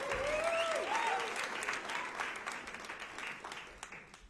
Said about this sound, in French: Est-ce qu'on peut applaudir à Espérance, s'il vous plaît?